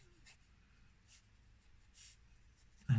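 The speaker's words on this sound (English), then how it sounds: "I'm drawing on tracing paper today" Pencil drawing a cartoon Porsche on tracing paper: a few faint, soft scratchy strokes spaced about a second apart, then a brief louder knock at the very end.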